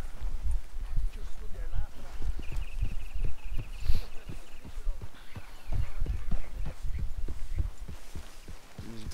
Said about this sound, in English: O cavalo chegou antes da gente no acampamento, velho.